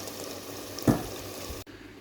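Mutton with bottle gourd frying in a pot, a soft steady sizzle with one brief scraping stir partway through, close and quiet, no voices.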